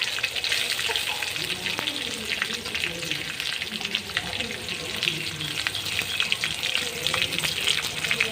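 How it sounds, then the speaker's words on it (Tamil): Onions sautéing in a pan for brinjal thokku give a steady, close sizzle and crackle throughout, with a constant dense hiss and scattered small pops, no voices. "வெங்காயம் நல்லா வதக்கணும் பச்சை வாசம் போகிற அளவுக்கு வதக்கணும்"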